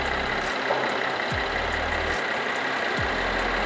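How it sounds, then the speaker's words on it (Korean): A Mercedes-Benz E350 4MATIC Avantgarde idling with its engine bay open, a steady, even low rumble heard up close, broken by a couple of brief dips and faint repeating ticks. "엔진 소리 일정하고 좋습니다."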